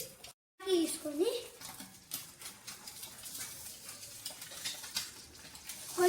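Egg frying in a pan with turmeric, a soft, steady sizzle and occasional stirring scrapes running under a voice that talks throughout.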